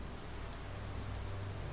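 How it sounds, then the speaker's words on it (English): Steady rain in Biomutant pours down over a graveyard, a dense, even hiss of drops without letup, filling the short stretch alone with no voices. "Pissing down rain"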